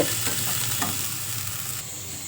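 Ingredients frying in hot oil in a pan make a dense, loud sizzle with crackling pops, heard up close throughout.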